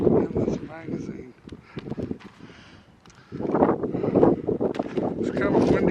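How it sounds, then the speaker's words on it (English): Gusty wind rumbles against the microphone outdoors, rising and easing in bursts. A person talks through much of it. "It's kind of windy out here."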